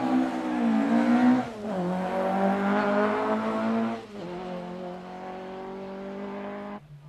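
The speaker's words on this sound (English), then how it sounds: "Escorts don't quite qualify for the historic class, but they keep great rallying moments alive, 20 years after their heyday." Ford Escort rally cars competing at the 1992 Galway International Rally, engines revving hard and loud with gear changes and shifting pitch, as the cars power past nearby; no voices.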